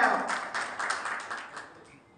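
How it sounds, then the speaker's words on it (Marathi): Audience applause at a student felicitation ceremony, a crowd clapping together for a student being welcomed, steady and moderately loud, then thinning out and fading toward the end. "जोरदार टाळी वाजवा. स्वागत करू भैया."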